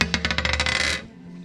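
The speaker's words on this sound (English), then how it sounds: "I'm going to roll the dice to see how many packets I buy" Dice rolled on a shop counter: a quick run of sharp rattling clicks for about a second as the dice tumble, then they settle and it goes quiet.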